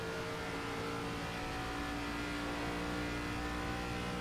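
ARCA race car engine in iRacing revving continuously after a spin-out, a steady droning roar at even loudness with no talk.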